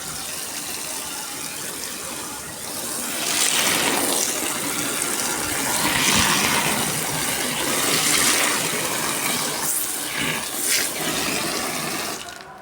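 Water gushes steadily from a tap into a tub filled to soak a cotton saree, a continuous close rushing that swells louder partway through and keeps going alone without talk.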